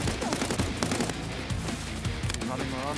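Rapid gunfire in an Escape from Tarkov firefight, dense overlapping shots and bursts throughout, loud and busy with battle noise.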